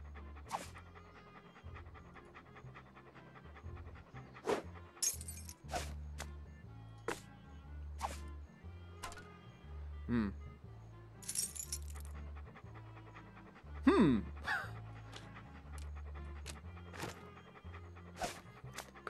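A dog pants in the Monkey Island 2: LeChuck's Revenge Special Edition video game, a steady rhythmic breathing loop that runs throughout, overlaid with scattered sharp clicks and snaps, with no talking.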